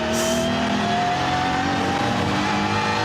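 BMW M4 GT3 race car of BMW M Team RMG at the Nürburgring 24 hours, its engine held at high revs in a loud, continuous rising drone heard from onboard, with a brief squeal early on.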